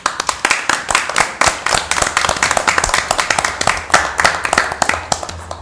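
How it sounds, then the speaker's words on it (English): A room of people at a city council meeting give a sustained round of applause, loud and close, with dense overlapping claps that continue steadily throughout. "You guys deserve a huge round of applause."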